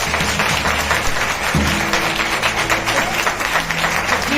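A church congregation applauds during a sermon, a sustained crackle of many hands clapping, fairly loud and even throughout, with a hum and faint voices underneath.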